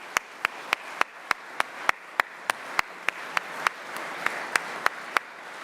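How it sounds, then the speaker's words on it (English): At a political party gathering in Bolton, applause for the councillors comes as a steady, evenly spaced run of sharp claps, about eighteen in roughly five seconds, crisp and close over a low background hum. "give them a round of applause"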